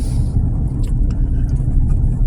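A car rolls along a gravel road with a loud, continuous low rumble and crunch of tyres on loose stones, close and steady, with faint scattered higher ticks.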